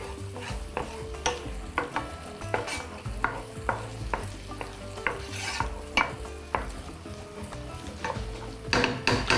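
Onions sizzle in vegetable oil in a pan while a utensil stirs and scrapes them, with steady frying hiss broken by regular clinks and scrapes against the pan, close and alone.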